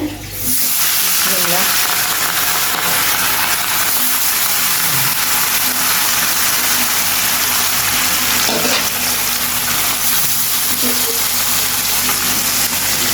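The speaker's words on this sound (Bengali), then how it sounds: "তো এই বড় মাছ এখন ভাজা করব" A large fish frying in hot oil on a stove, giving a loud, steady, close sizzle that holds throughout with faint kitchen clatter.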